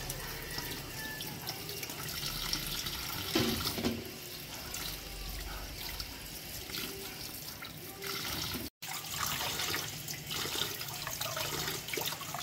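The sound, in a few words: washing peeled pongapong (elephant foot yam) under running water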